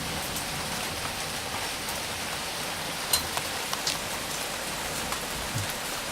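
Heavy rain pours during a thunderstorm in Guildford: a constant close hiss of rain on surfaces, broken by a few sharper drip taps. No thunder or voices are evident.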